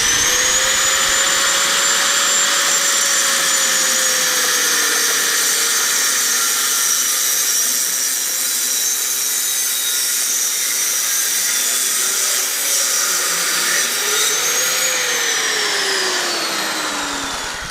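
A power tool cuts through the exhaust pipe of a Honda Z50R motorcycle, a loud, steady high-pitched whine and grinding that runs the whole time with small shifts in pitch and no talk.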